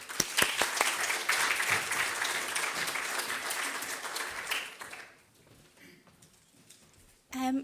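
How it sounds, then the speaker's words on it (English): A round of applause from the audience at a sustainability showcase as a speaker is welcomed: dense, lively clapping for about five seconds, then a quick fade to near silence before a voice starts speaking close by. "So a big round of applause for Joanna."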